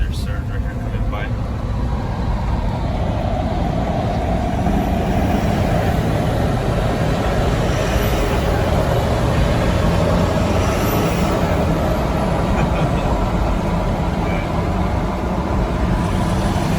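A Ford F350 pickup with the 6.4 Powerstroke diesel cruising at about 35 mph: a steady, loud low drone of engine and road noise fills the whole stretch, and a person talks over it.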